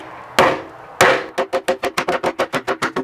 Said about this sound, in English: we're grabbing a scrap piece of wood to hammer this in by pressure